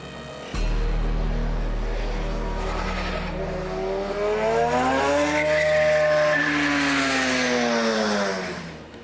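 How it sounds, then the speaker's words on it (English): An autonomous Indy race car at the Indy Autonomous Challenge roars in at high speed, its loud engine pitch rising and falling as it rushes close by, then fading slightly. "university teams program this car to compete for the fastest lap time with the AI software"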